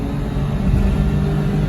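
Daihatsu HiJet kei truck with a four-speed gearbox, its small engine revving high and straining in third gear at about 60, a steady loud drone inside the cab.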